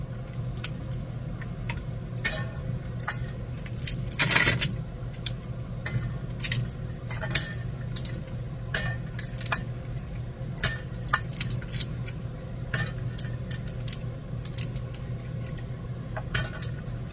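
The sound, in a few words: washing dishes in an RV sink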